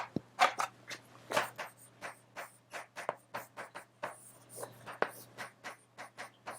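Chalk writing on a board during a classroom lecture, a quick series of sharp tapping and scratching strokes in an irregular rhythm, close and clear with a low steady hum underneath.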